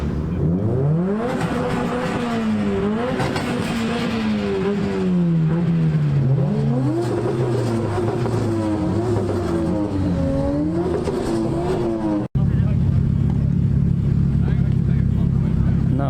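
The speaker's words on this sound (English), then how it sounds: "There is something revving. I am running because I can hear cars." Car engines rev loudly at a Japanese car show, JAE 2021, with pitch climbing and falling in long, sweeping pulls over a constant crowd and engine rumble, then a sudden cut to a steadier drone.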